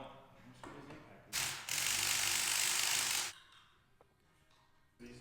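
An impact wrench tightens a new nut on an MK4 Jetta shock absorber, a loud rattling burst of hammering of about two seconds, set off by quieter mechanical clicks and taps before and after.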